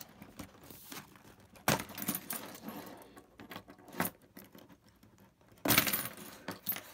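Product packaging being cut open: bursts of crinkling plastic and sharp snips at close range, separated by quiet pauses and growing louder toward the end.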